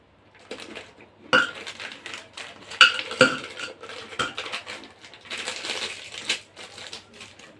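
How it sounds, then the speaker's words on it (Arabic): A plastic packet of Oreo cookies is torn and opened by hand in a kitchen during drink making, giving a run of close, crinkly rustles and sharp crackling snaps in irregular bursts, with no talking. "نفتح كيس الاوريو ماشي،"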